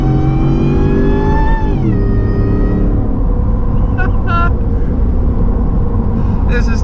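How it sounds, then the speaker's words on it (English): Supercharged 750 hp Shelby F150 pickup accelerates hard, its engine note climbing with a high supercharger whine before a shift drops the pitch, then a loud steady drone continues with brief chirps overhead. "I hope the audio in this GoPro is picking up the supercharger whine"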